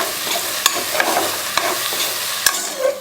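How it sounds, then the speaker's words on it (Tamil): Wheat rava and toor dal sautéed in oil in a pan, with a steady low sizzle broken by several sharp spoon scrapes and stirs, up close and with no talking. "கோதுமை ரவை போட்டு எல்லாத்தையும் எண்ணெயில் ஒரு வதக்கு நல்லா வதக்கிக்கணும்"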